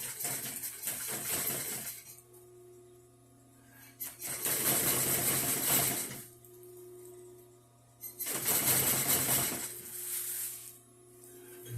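Sewing machine stitching a loop window opening in Strataglass, running in three loud bursts of rapid mechanical stitching separated by quieter pauses with a steady hum underneath.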